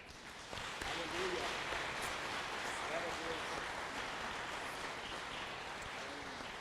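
A church congregation applauding during a communion service, a steady wash of clapping from many hands that continues throughout while a voice speaks over it.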